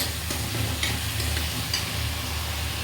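A paste of tomato, ginger and cumin with salt, turmeric and chili sizzles in a pan while being stirred, a close, continuous frying hiss with scraping strokes.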